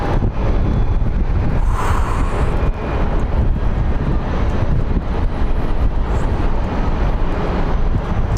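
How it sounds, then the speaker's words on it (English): Wind buffets an open microphone at Phoenix Sky Harbor airport, a loud, continuous low roar and rumble that fills the whole stretch without letup. "All right, wind, you can stop now."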